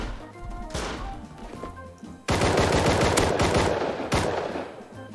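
Video game gunfire, a loud close burst of rapid automatic shots, is preceded by a few scattered single cracks and fills most of the stretch with dense, overlapping reports.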